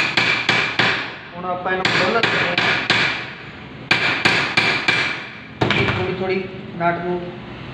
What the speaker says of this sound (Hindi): नट को पंच करके टाइट कर देंगे